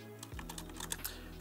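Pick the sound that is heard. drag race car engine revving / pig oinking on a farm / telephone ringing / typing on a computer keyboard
typing on a computer keyboard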